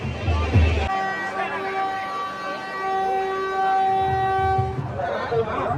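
The first Vande Bharat Express in the Godavari districts, running Narasapuram to Chennai Central, sounds a long steady horn of several sustained tones for about four seconds, loud and near, with crowd noise and talk around it.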